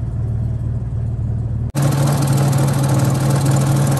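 A 1961 Jaguar Mark II 2.4 engine idles loudly close by with a steady low throb; after a brief cut, the idle continues louder and brighter, as if heard with the bonnet open.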